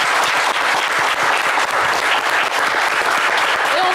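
A French television game show studio audience claps loudly and continuously, a dense, steady wash of applause filling the whole stretch with no pauses.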